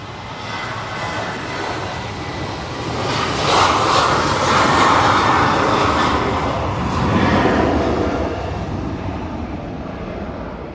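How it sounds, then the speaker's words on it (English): Ryanair Boeing 737-800 jet on its takeoff roll at a windy Manchester Airport, a sustained roar that builds to a peak mid-way, dips, then surges again under gusty wind noise, moderately distant with no talk. "Ryanair 737-800 now on the roll"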